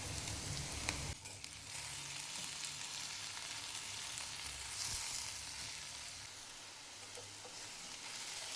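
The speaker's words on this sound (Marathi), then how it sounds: "तेलामध्ये भाजून घ्यायचं आहे." Tomato, onion, green chili and curry leaves fry in hot oil for a Maharashtrian matki usal, giving a steady, close, continuous sizzle that holds throughout with no voices.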